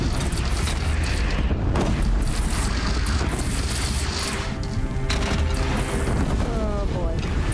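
Bridge collapsing in Horizon Zero Dawn: a sustained, loud rumbling crash of breaking and falling debris with booming impacts, dense and continuous, with a voice briefly audible.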